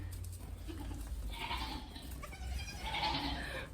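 Baby goats on a goat farm bleat in two wavering calls, one after the other, over a steady low rumble of wind or background noise.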